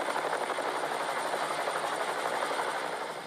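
A helicopter's rotor chops and whines steadily and loudly, heard from on board during a ride over the Okefenokee Swamp, with no voices.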